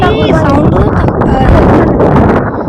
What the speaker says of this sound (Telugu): ఎంత గాలి వస్తుంది అనేది